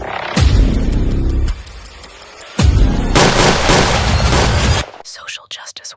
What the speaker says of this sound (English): But I just heard a bunch of gunshots that sounded very loud